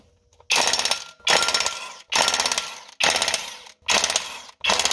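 A ratchet wrench loosens 17 mm flywheel bolts on a Ford Focus with the SPI/CVH engine during a clutch job, heard as five loud bursts of rapid clicking separated by short pauses, close up with no talking.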